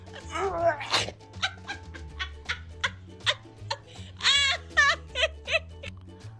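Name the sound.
dog yakking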